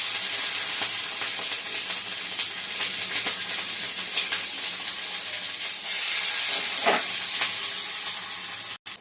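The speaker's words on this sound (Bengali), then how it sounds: "আরও ভালো করে কষাবো যতক্ষণ না মশলা থেকে তেল ছেড়ে দিচ্ছি।" Ginger, garlic, cumin and green chilli paste frying in hot oil, a steady close sizzle with occasional stirring scrapes throughout, no voices.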